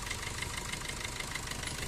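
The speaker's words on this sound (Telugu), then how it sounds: "ఇంజన్ సౌండ్ ఇట్లా ఉంది" A 2020 Maruti Suzuki Brezza VDI diesel engine idling, a steady, even rumble with a faint rhythmic diesel clatter, heard close and alone for a brief moment.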